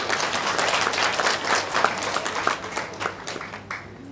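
An audience at a life-science program at a college breaks into applause, a dense, lively patter of many hands clapping for a few seconds at moderate distance.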